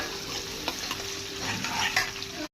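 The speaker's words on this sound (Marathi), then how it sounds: "कांदा मस्तपैकी लाल परतवून घेऊया" Onions fry in a wok with whole spices for chicken biryani, making a close, continuous sizzle with light stirring scrapes and small pops, and no voices.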